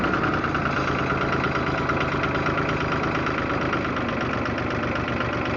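A John Deere tractor engine idles steadily up close, a continuous rumbling chug with a faint knocking pulse and no pauses or voices.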